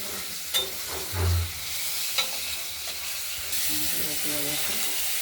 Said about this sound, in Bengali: তারপরে আমরা বেটে রাখা মশলাটা দিয়ে কষাবো।